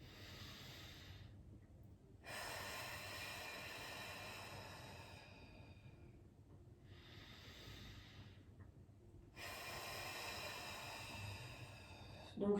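Slow, deep breaths taken during Pilates lateral thoracic breathing, with long, airy inhales and exhales alternating in steady cycles, close and fairly soft over a low background hum.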